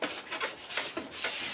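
A plastic scraper rasps wax off a skating ski in several quick, repeated strokes, close up and fairly quiet, with no voices.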